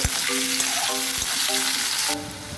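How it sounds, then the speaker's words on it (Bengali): Chopped onion sizzles loudly in hot oil that was seasoned with bay leaf and nigella seeds. A few metallic scrapes from stirring cut through the steady frying, which drops off abruptly near the end, with no voices. "পেঁয়াজটা একটু ভেজে নেবো আমি"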